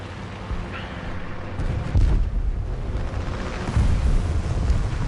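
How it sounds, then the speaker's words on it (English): Heavy booming blasts and rumbling explosions from War Thunder tank combat, loud and close, with a deep roar swelling twice and lingering under dense low-end noise. "why did I just hear what sounded like a petard"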